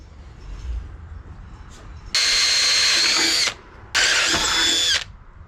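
A power drill bores holes in metal bed frame brackets for a 2x4 lumber bed, two loud whirring bursts of about a second and a half each, separated by a short pause, over faint room noise.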